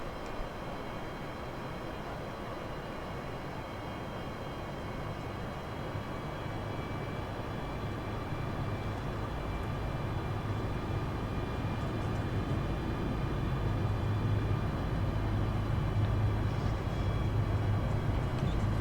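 Felis 747-200 with RB211 engines in the X-Plane 11 flight simulator powering up to taxi, a steady low jet-engine drone with faint whine tones that slowly grows louder, no speech.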